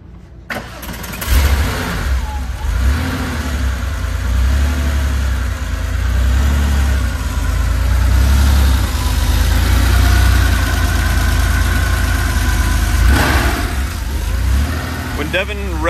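A 1992 Porsche 911 Carrera RS engine cranks and catches on a cold start, then runs with a loud, deep, steady rumble that rises in a couple of revs, kept under 2,000 RPM, before settling.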